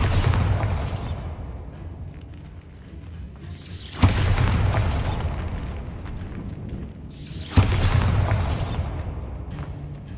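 Three heavy Bombarda spell blasts from Hogwarts Legacy, each a sudden deep boom followed by a long rumbling decay, spaced a few seconds apart.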